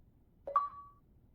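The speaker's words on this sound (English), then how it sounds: "Got the achievement noise" A short achievement notification chime from the video game Blue Prince rings out alone, a brief rising blip that settles into a clear sustained tone and fades within about half a second.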